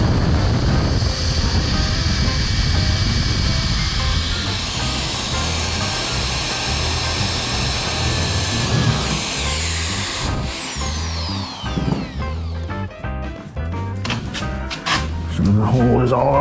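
A power drill with a 3/16 bit bores through the hull of a jon boat, its motor whining steadily before stopping, followed by scattered knocks and handling sounds, with speech heard at points.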